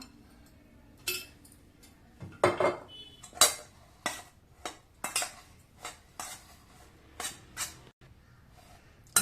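Food being mixed with sweetener in a 304 stainless steel tri-ply biryani pot, a series of about a dozen sharp metallic scrapes and clinks at irregular intervals, close and quiet between strokes, with no talking.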